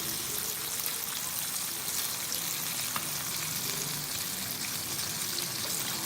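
KFC-style coated chicken pieces deep-frying in hot oil, a continuous, even, close sizzle with a faint bubbling hiss and no talking.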